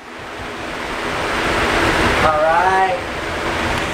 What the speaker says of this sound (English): So let's go ahead and go in front of the electric fan.